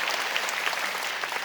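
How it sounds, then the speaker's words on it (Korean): A church congregation at a Sunday worship service applauds in welcome, a brief, dense, even burst of many hands clapping at once, with no talking. "여러분 그의 박수로 환영하시죠."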